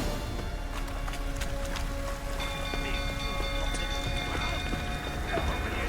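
Horse hooves clip-clop in a Witcher 3 video game scene, a steady, moderately close rhythm over a constant bed of rain and ambient music.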